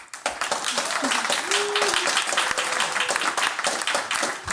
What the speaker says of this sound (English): Can I have a warm round of applause for them?